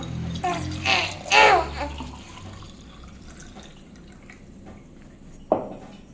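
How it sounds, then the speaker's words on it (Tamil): Blended homemade rose milk is poured into a glass, giving a couple of short liquid splashing gushes near the start, then quiet with a single sharp clink later. "இப்போ நம்ம கிளாஸில் ஊற்றிக்கலாம்."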